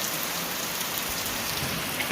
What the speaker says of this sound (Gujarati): તો આવવા મળ્યો છે વરસાદ